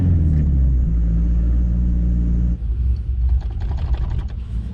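A turbocharged Ford Ranger accelerates in third gear at a drag strip, its loud engine droning steadily up in pitch before backing off into a rougher rumble, heard close with no talking.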